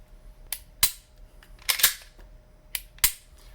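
A CZ P10 F pistol is dry-fired on a tabletop: about six crisp, close mechanical clicks from trigger pulls and resets, some falling in quick pairs, with quiet gaps between them.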